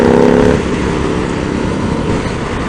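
An Indian FTR 1200 motorcycle engine revs, a loud, close, continuous roar that starts slightly stronger and then holds steady, with no one speaking.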